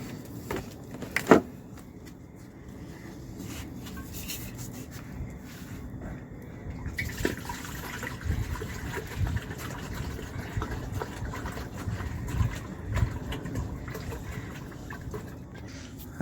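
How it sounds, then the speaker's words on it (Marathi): Water running into a cooking pot for a morning meal, a steady pouring rush that grows fuller and louder in the second half, with a few knocks and clatters near the start. "तर आता टोपात हे टोपात पाणी घ्यायला लागेल, आपल्याला ठेवायला लागेल जेवणासाठी पाणी"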